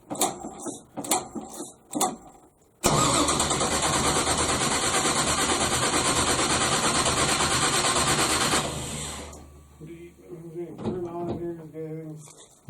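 A 1971 AMC Gremlin with a 496 big block and tunnel ram cranks and catches, settling into a loud, steady roaring run for about six seconds before dropping off, with voices talking before and after.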